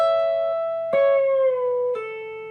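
Clean electric guitar playing a slow phrase from a guitar solo: three picked notes with long sustained, gently bending tones, close and alone.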